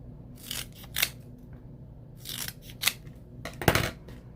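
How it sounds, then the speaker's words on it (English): Kitchen scissors making long snipping cuts through foam adhesive sheets during a card-making craft, with three or four separate crisp cutting strokes close by in a quiet room. "I'm going to use these foam adhesive sheets, and I like to use my kitchen scissors for long cuts"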